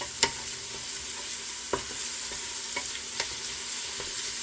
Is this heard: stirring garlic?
yes